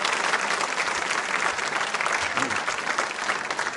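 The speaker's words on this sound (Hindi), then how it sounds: "तालियां जोरों से बजाइए, उत्तर बिल्कुल सही है" Steady, dense applause from a school audience at a quiz show, rewarding a correct answer, filling the whole stretch at even strength with no voices over it.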